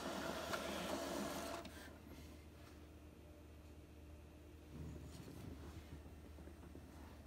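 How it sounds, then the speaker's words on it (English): An Epson XP-8500 photo printer runs with a steady mechanical whir, louder for the first second and a half, then settling into a quieter hum with a faint shift in motion near the end. "so it looks like it is printing"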